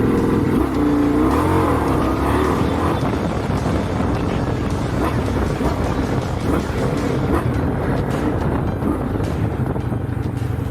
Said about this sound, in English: The signature V-twin pulse V4 sound of a MotoGP bike with a counter-rotating crankshaft.